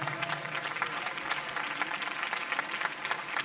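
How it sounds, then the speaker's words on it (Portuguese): A church congregation claps together in dense, steady applause filling the space, a sustained wash of many hands at moderate distance with no voices standing out. "glorifiquem a Deus com suas palmas"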